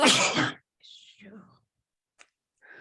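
A short burst of breathy vocal noise, like a stifled sneeze, comes after a whispery voice, followed by a sharp click and a faint rustle.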